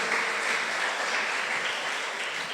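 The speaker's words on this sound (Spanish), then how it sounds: "Dele un aplauso al Señor." A church congregation applauds during a sermon, giving a continuous, even burst of clapping that fills the room without talk over it.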